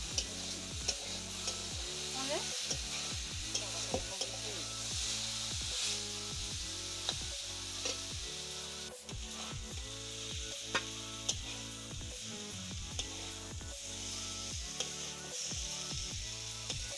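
Ridge gourd and potato fry being stirred in a pan, a spatula scraping in a regular rhythm over a steady close sizzle, continuing for about seventeen seconds with no talk.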